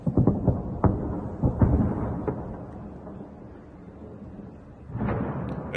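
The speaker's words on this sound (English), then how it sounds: "also the sound of the explosions as well" Explosions from anti-aircraft shells bursting in the air over Tehran, heard as several dull booms in the first two seconds, a quieter rumbling stretch, then another heavy blast near the end.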